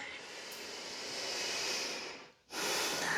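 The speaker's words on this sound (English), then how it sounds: "Take a nice deep breath in" A long, steady breath drawn in and let out during a morning yoga flow, a soft airy rush that swells, dips briefly to near silence, then resumes close to the microphone.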